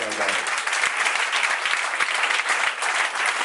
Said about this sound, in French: Nous acclamons pour la gloire de Jésus-Christ.